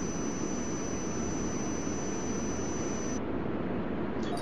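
A Turkish Airways jet airliner taking off at Frankfurt airport in Tower! 2011, a steady broad roar of jet engines with a thin high whine, unchanging and alone, cutting out near the end.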